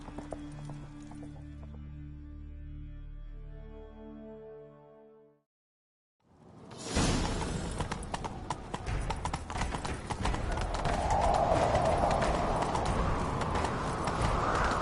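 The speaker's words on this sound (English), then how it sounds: "Grab a horse, we'll chase him down." In The Witcher 3, after a sustained musical tone and a brief pause, a horse gallops with rapid, steady hoofbeats close by, continuing loudly to the end.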